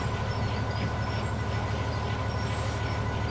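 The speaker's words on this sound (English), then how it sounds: "Right, stop the train" Train running in the video game Train Sim World 4, a loud continuous low rumble of rolling stock with a dense rail roar and faint high squeal near the end, steady throughout with no talking.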